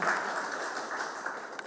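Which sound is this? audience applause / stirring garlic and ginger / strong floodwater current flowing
audience applause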